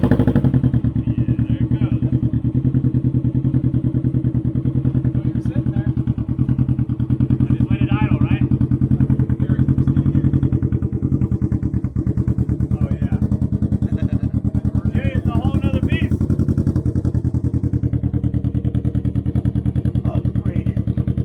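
Can-Am Ryker 600 fitted with an RLS exhaust idling nearby, a loud, steady, throbbing engine drone that runs unbroken throughout, with people talking over it at times.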